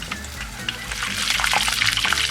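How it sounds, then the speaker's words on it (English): Dumplings bubble in hot oil while deep frying, a dense close crackle and fizz that builds steadily over a couple of seconds with no talking. "Now we got some bubbling."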